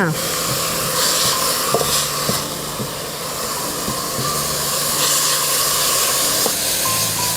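Vegetables for a Kerala sadya pachadi sizzle and fry steadily in a pan, with a loud continuous hiss broken by repeated scraping stirs of a spoon, close up and mostly without talk.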